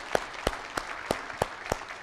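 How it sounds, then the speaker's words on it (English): At a seminar panel, someone claps six times in a slow, even rhythm, each sharp clap distinct and fairly faint against a quiet room. "let's give a round of applause for the people that showed up here"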